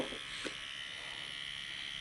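A Dr. Pen microneedling pen set to 0.5 needle depth hums with a steady high-pitched electric buzz, close and even, with a couple of faint brief touches near the start.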